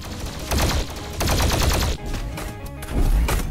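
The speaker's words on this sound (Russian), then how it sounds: "Это классическая плазменная пушка из Дума." The classic Doom plasma gun fires in Garry's Mod, giving rapid, continuous bursts of loud crackling energy shots that come in waves with brief pauses, and no one speaks over them.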